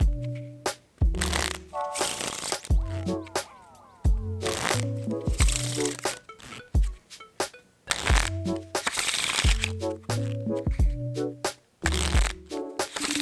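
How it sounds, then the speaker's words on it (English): Playing cards riffle-shuffled repeatedly, each pass a quick fluttering burst of snaps followed by a soft bridge clatter, close up. "when you bend them together, they should make this riffle sound and automatically shuffle back into one deck"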